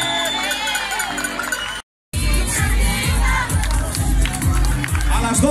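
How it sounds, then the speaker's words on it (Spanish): A carnival crowd cheers and shouts at an award announcement for the arretrancos race at the Puerto del Rosario Carnival 2018. The loud, close roar of voices breaks off briefly, then resumes strongly. "Aplauso para ellas."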